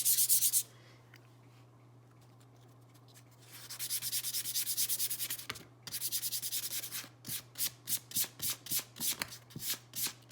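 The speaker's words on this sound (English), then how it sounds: "notice that I'm just lightly sanding it, nothing too crazy" Sandpaper rubs against wood, first in a longer continuous stroke, then in a series of short, rhythmic back-and-forth passes, close and clear with no talking.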